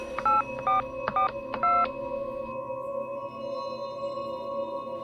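A short run of electronic keypad tones as a phone number is dialed, several beeps in quick succession, then a steady line hum.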